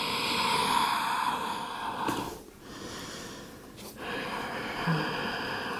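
Heavy breathing from someone holding a deep yoga split stretch in a power vinyasa flow: long steady breaths with a brief pause midway, close and fairly loud over a faint hiss, with no talking.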